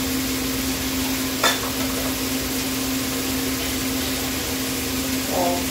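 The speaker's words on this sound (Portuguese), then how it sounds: "Então vamos refogar aqui um pouco." Meat sizzles in a pressure cooker while being sautéed, a steady close hiss of frying with a brief clatter of stirring near the start.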